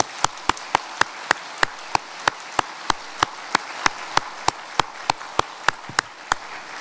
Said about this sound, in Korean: 우리 감사하고 또 감격하는 우리 찬양 박수 힘차게 한번 하겠습니다